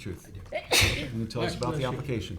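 A single sharp sneeze bursts out close by in a town zoning board hearing room, amid surrounding speech.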